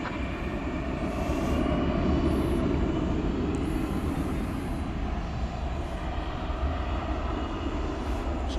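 A Boeing 747 airliner on the runway at Dallas/Fort Worth airport at night gives off a steady, loud, broadband jet engine roar that holds constant throughout, with no talk.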